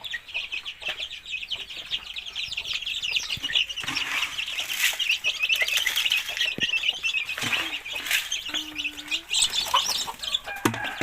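Chicks and chickens cluck and peep continuously near a backyard poultry pen, with occasional louder calls and brief wing flaps over a steady busy chorus.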